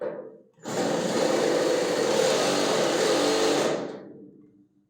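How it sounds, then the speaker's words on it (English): A power drill bores into stuck screws on a 1984 Chevrolet Scottsdale pickup bed, a steady, loud whirring grind that starts abruptly, holds for about three seconds, then winds down. "screws that won't come out, so I'm just going to drill them out."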